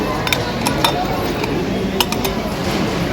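Pots, pans and metal utensils clink in a brief irregular run at a cookware display in a busy shop during evening Christmas shopping, set against a steady background din.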